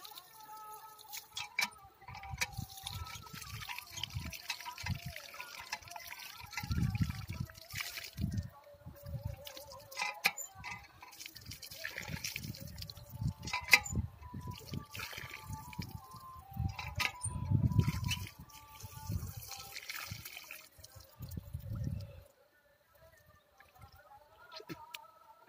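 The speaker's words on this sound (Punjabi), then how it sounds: "ਲਓ ਜੀ ਮਹਾਰਾਜ, ਨਲਕਾ ਦੇਖ ਲਿਆ ਤੁਸੀਂ ਪਿੰਡ ਦਾ ਆਪਦੇ।" Water gushes from a village hand pump in Gurdaspur, Punjab, in uneven rhythmic surges that match the pumping, with faint clucking of fowl nearby before the flow stops near the end.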